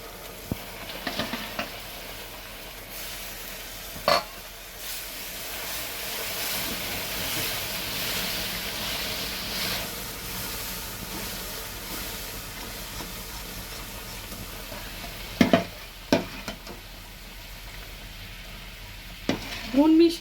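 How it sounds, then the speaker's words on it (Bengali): Raw mango pulp is stirred into a cooking mango-leather mixture, making a soft, continuous bubbling and scraping with a few sharp utensil knocks near the start and end. "ভালো করে নাড়িয়ে নাড়িয়ে এটাকে কিন্তু মেশাতে হবে"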